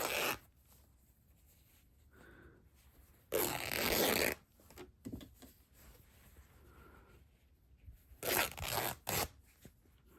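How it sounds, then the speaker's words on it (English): Sewing stitches being snipped and ripped out of fabric, heard as short, close, quiet tearing bursts and small rustles separated by gaps. "So we're going to just snip and then rip this."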